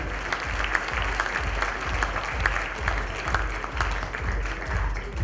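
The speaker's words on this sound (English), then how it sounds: "A big round of applause for them." Audience at a corporate awards ceremony giving a winning team a round of applause, steady, even clapping from a large crowd filling the room, unbroken from start to finish.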